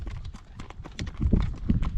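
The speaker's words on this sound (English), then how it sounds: "And straight ahead of me is Cheyenne, one of our quarter horse mares" Quarter horse hooves clip-clop in a quick, uneven rhythm on a blustery day, close by, with wind noise underneath and no talk.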